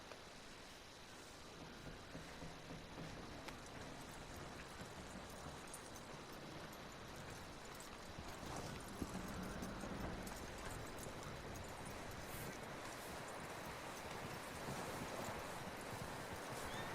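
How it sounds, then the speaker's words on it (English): Horse hooves clip-clop faintly and steadily in Red Dead Redemption 2, a soft continuous plodding under a broad hiss of outdoor ambience for a long stretch, with no talking. "That looks like a decent horse."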